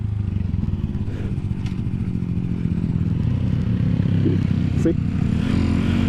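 A motorcycle, likely a Honda Grom or Kawasaki Z125 Pro small-displacement bike, drones steadily throughout while being ridden nearby, with a brief spoken word over the engine noise.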